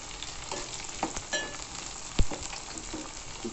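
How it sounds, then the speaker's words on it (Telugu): Onion pieces and curry leaves frying in hot oil for a sesame tomato curry, giving a steady close sizzle with soft crackles and one sharp pop near the middle, with no talking. "ఉల్లిపాయ ముక్కలు వేసేసుకోండి. ఇప్పుడు కరివేపాకు కూడా వేసుకోండి."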